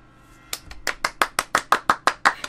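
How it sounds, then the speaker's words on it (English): Hands clap about a dozen times in a steady, evenly spaced rhythm, sharp and close, with no other sound alongside. "Should I clap now?"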